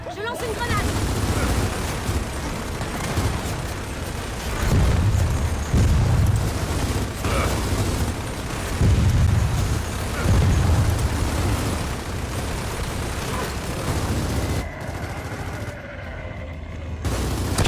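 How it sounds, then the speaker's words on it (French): Gears of War 4 video game battle with booming blasts from a thrown grenade among heavy, dense gunfire and impacts, loud and continuous, with someone talking over it at times. "Je lance une grenade."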